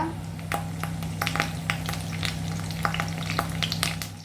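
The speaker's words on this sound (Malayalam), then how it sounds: "ഇതിനകത്തോട്ട് നമുക്ക് 1 ടീസ്പൂണോളം കടുക് ഇട്ട് കൊടുക്കുക" Mustard seeds and curry leaves crackle and sizzle in hot oil while making a vada pav filling, with a dense, steady run of sharp close pops over a constant low hum.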